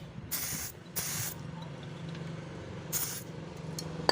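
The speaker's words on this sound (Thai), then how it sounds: "ฉีดเข้าไปเลยครับ ฉีดแบบนี้ลงไปเรื่อย" Tire bead sealer liquid is sprayed by hand onto the bead of a tire that will not seat on its rim, in three short hissing bursts over a low background hum.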